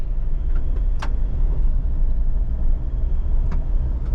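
A Ford Everest SUV with the 2.0L single-turbo engine rolls along a gravel road, giving a steady low rumble of tyres and drivetrain heard from inside the cabin, with a few faint clicks and knocks over it.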